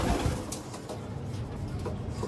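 Pigeons, including a blue bar pigeon, coo softly at close range in a loft, a low murmuring burble that continues steadily over faint background noise.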